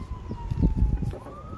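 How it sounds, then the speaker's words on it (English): An ambulance siren wails steadily in the background, a long sweeping tone gliding slowly up and down over low rumbling traffic noise. "sorry about the sirens behind me"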